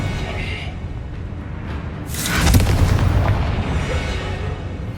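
A Confringo fire-blast spell in Hogwarts Legacy combat erupts midway as a loud, sharp explosion with a sustained rumbling tail over a busy game background, with voices in the mix.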